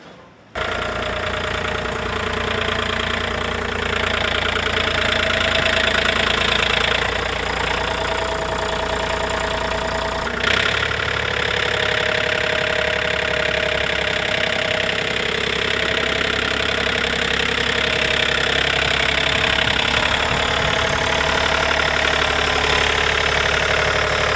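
A compact tractor engine idles steadily with a continuous low throbbing drone and slight knocking texture, unchanging throughout, close by and fairly loud.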